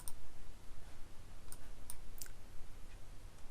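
Three sharp mouse clicks at the desk, close and fairly faint, spaced about half a second apart over steady background hiss while working in Staad Pro structural analysis software.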